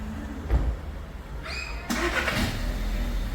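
A 2014 Audi A3 is started by remote: a brief whirring crank, then the engine catches and settles into a steady, close idle.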